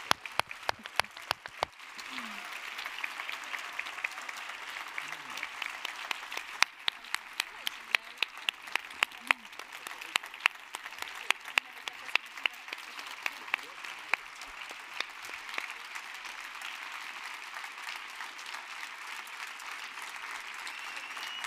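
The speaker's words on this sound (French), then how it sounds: "On peut à nouveau les applaudir et surtout les soutenir au quotidien." Sustained audience applause fills a hall after a film screening and Q&A, dense steady clapping with a few sharper nearby claps standing out, continuing at even strength throughout.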